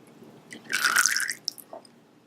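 Vanilla extract and flavorless oil poured into a bowl of egg and milk for raspberry cupcake batter, a brief close splashing pour that swells then tapers into a few drips, with no voices.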